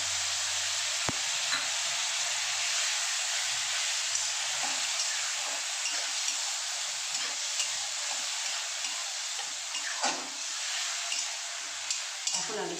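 Grated tomato goes into spices frying in a pan, setting off a loud, steady sizzle that hisses on for over twelve seconds, broken by scattered stirring scrapes and light clinks.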